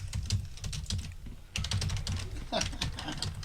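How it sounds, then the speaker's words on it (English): Fast clattering keystrokes on a computer keyboard, a dense run of clicks with a brief pause before resuming, close and fairly loud. "That's me typing."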